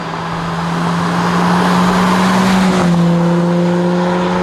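A BMW 1 Series M Coupé, in orange, being driven, its engine droning loud and steady with a sustained tonal hum that shifts pitch partway through, no voices over it.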